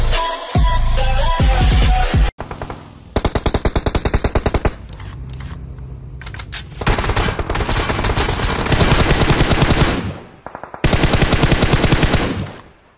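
Rapid automatic gunfire in a battle royale shooter match, long sustained bursts of machine-gun fire close and loud, broken by brief pauses and a few short gaps, with no talking.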